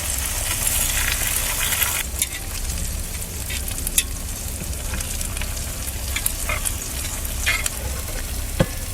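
Pork belly sizzles and crackles on a cauldron lid at a car camping spot, a dense, loud, continuous frying hiss with occasional sharp pops and stirring scrapes, close up.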